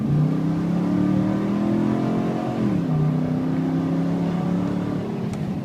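A 2005 Nissan Titan LE 4x4 pickup's engine revs steadily while driving, its droning exhaust note rising, dipping briefly at a shift, then climbing again, loud and close throughout.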